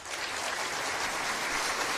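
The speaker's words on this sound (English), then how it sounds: "That's our applause." An audience applauds continuously, a dense steady wash of clapping at even volume with no voices over it.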